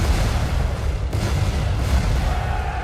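Heavy cannon fire from three decks of a ship, a dense, continuous rumbling barrage of overlapping booms, loud and sustained with no pauses, no voices.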